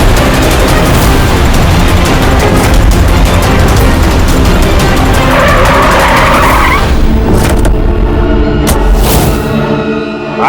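A car in a chase scene drives loud and close with tires squealing and skidding, engine roaring steadily through the whole stretch, ending in a few sharp bumps.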